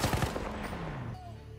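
Bursts of MP18 submachine gun fire in the video game Battlefield 1: a quick run of sharp shots at the start, then fading echoing tails and faint game effects.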